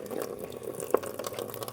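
Cold spring water from under a mountain running constantly out of an open pipe, a faint steady trickle and splash with one small drip-like plop, no talk.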